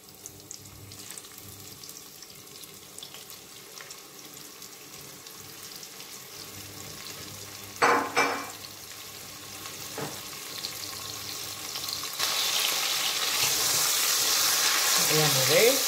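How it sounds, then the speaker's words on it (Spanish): Flour-dredged beef searing in a hot pan, a steady close sizzle and hiss that grows slightly louder, with a few clanks from stirring or turning and no voices. "la ternera la he pasado por la harina y ahora lo voy a sellar un poquito"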